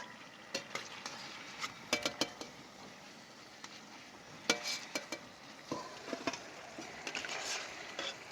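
Jackfruit and banana fritters frying in hot oil, a soft steady sizzle with scattered clicks and scrapes of a utensil stirring and lifting them out, fairly faint and close.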